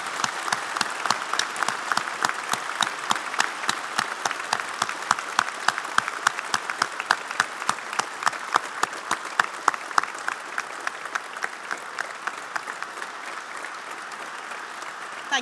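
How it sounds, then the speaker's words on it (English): A large seated audience at a university graduation ceremony applauds steadily, a dense wash of clapping that holds strong throughout and tapers only slightly toward the end. "give them a huge round of applause"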